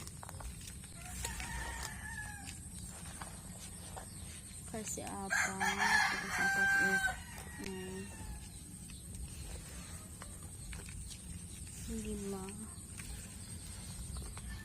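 Backyard Rhode Island Red chickens cluck intermittently while a rooster crows in the background, with a person speaking briefly over the birds.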